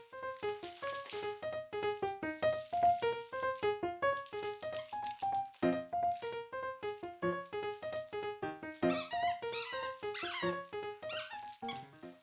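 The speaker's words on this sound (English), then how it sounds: "I think we're going to be playing with the doggy." A dog at play makes a continuous run of close, high-pitched squeaks and whines that rise and fall in quick, varied bursts for about twelve seconds, with no talking.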